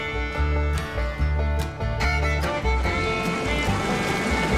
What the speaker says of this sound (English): God damn that waterfall's loud.